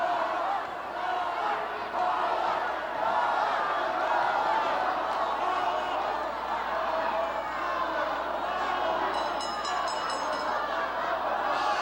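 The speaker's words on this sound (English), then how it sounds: "Listen to this crowd. The chant of Paula." Wrestling arena crowd at a WWF event, a large audience chanting and roaring in a continuous dense wash of voices that fills the whole clip at a steady level.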